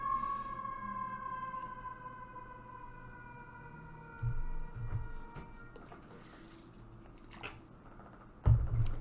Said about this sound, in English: Sorry, I just waited for that siren to pass.